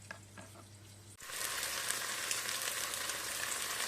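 Turkey osso buco pieces hit a hot pan and burst into loud, steady frying, a dense sizzling hiss that starts abruptly after a quiet moment and carries on evenly.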